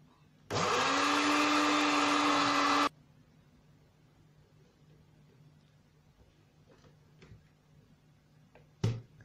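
Eggs are beaten with an electric mixer for a recipe, a loud steady whirring burst lasting about two seconds that then cuts off, followed by quiet room sounds and a brief clatter at the end.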